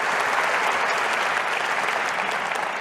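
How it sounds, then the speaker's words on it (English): Dense, sustained audience applause fills a large hall at Sony's E3 2010 press conference, steady clapping from a big crowd throughout with no break. "How about another round of applause for Hermen and the guys from Guerrilla Games?"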